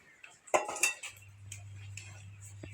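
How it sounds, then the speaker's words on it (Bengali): A wok is set down on a stove with a couple of sharp metallic clanks and clinks, followed by a low steady hum from the burner, close by and without talk. "কড়াইটা বসিয়ে দিলাম"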